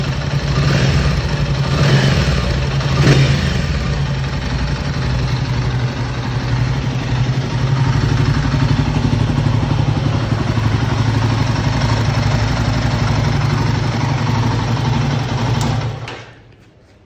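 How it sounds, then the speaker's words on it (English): A motorcycle engine fitted with a new timing chain tensioner idles steadily up close after about 20 minutes of hard revving and riding, a low, even rumble with a brief blip early on, cutting off abruptly at the end. "That's the engine after about 20 minutes of hard revving and riding"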